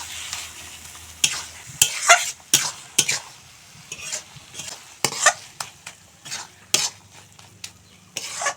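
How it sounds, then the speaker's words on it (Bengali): Mashed cabbage being stirred and pressed with spices in a pan for a cabbage bhorta, sharp scraping and clinking strokes of a spatula against metal repeating in an uneven rhythm over a soft sizzle, close and fairly loud. "এখন মশলার সঙ্গে ভালো করে মিশিয়ে ভর্তা বানিয়ে নেব।"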